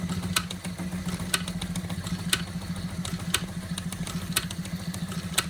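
A Wilesco D24 toy steam engine runs quietly, driving a Fleischmann blacksmith model, with a soft, steady mechanical hum and regular light clicks about once a second.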